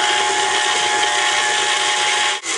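An electric mixer beats gingerbread dough with brown sugar in a bowl, giving off a loud, steady whirring buzz up close that dips for a moment near the end.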